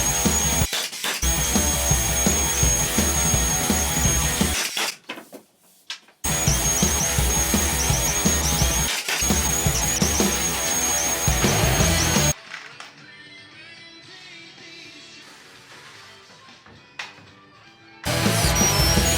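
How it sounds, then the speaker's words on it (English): A power drill boring pilot holes into boards tacked down in a rustic workshop, with bursts of high, whirring drilling separated by brief silences and quieter stretches. "first I just wanted to tack the boards down and get some pilot holes in, then go back with screws afterwards"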